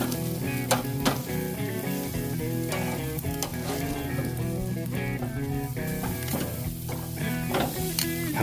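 A T-bone steak sears on a grill, giving off a steady, dense sizzle and crackle that stays up close and even for several seconds, with no talking.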